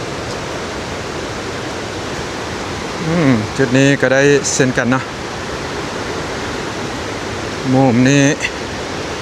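Steady roar of the Li Phi waterfall on the Mekong River in southern Laos fills the whole stretch as an even broadband rush, with someone speaking briefly over it twice.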